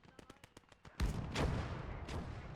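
Mortar fire in the World War II strategy game Gates of Hell: Ostfront starts with a quick series of light distant shots, then a heavy booming blast that rolls and echoes, followed by another thud and low rumble.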